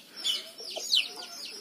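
Penned hens clucking as they peck at discarded market vegetable scraps: a few close, soft clucks and chirpy calls come in short bursts.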